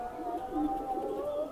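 Pakistani highflyer pigeons in a loft cooing softly and steadily, a low continuous murmur close by with faint background noise.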